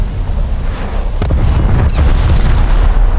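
Heavy battleship naval gunfire in War Thunder, a deep rolling boom that swells and rumbles continuously, loud and close, with no voices.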